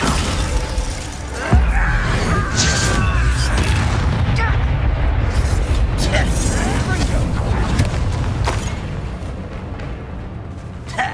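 Descendo spell cast in the Hogwarts Legacy video game: a heavy booming slam with shattering debris hits early, then a dense, loud rumble of combat effects continues steadily beneath a voice.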